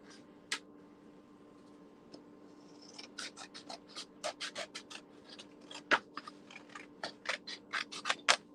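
Scissors snip through a sheet of paper bearing watercolor pencil marks, with one early cut, then a quick, steady run of sharp close snips that grows denser toward the end, alone over a faint room hum.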